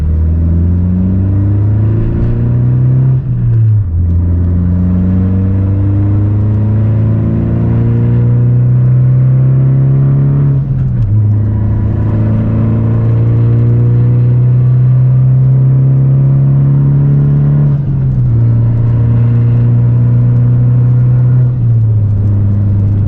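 A tuned 2018 Honda Civic Si sedan hums steadily and revs up through the gears, its exhaust note rising in pitch, dropping at each shift, then climbing again, loud and close.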